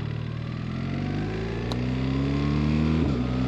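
A BMW R 1300 GS Adventure motorcycle in automatic shifting mode pulls away gently, its steady engine note rising smoothly and then dipping briefly as a gear changes, heard close with no talk.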